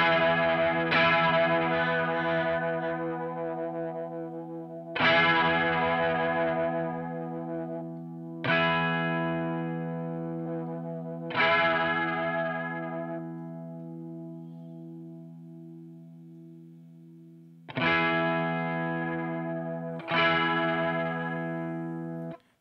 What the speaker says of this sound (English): so you can hear the difference in the sound, the chorus being added on and removed